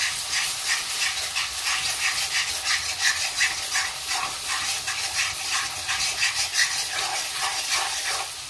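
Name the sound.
onion paste frying in oil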